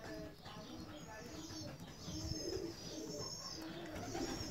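Rostov fancy pigeons coo softly in an aviary, low murmuring calls rising and falling among faint chirps and rustling, with a person speaking quietly in the background.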